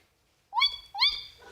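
A human voice imitates the tawny owl's call and response: two rising, hooting whoops in quick succession after a brief silence, close and clear.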